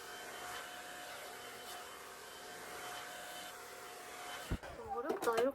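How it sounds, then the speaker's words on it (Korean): A handheld hair dryer blows with a steady, close, even whoosh for about four and a half seconds, then cuts off into brief clatter and a voice. "제가 이 드라이기를 지금 처음 써봐요."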